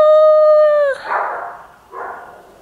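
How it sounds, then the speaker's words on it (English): A dog gives a steady, drawn-out howl, then two short, gruff barks, loud and close in a quiet indoor room. "All right, guard dog."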